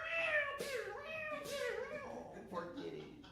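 A cat meows several times in drawn-out, rising and falling cries, fairly close and soft, with short pauses between calls.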